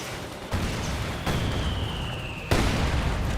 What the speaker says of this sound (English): Great mortar hit there on the Panzer Grenadiers